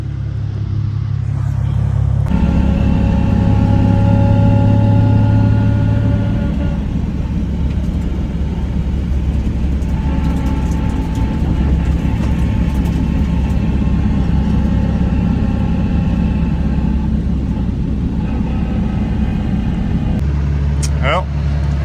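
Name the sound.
Nissan 370Z car engine running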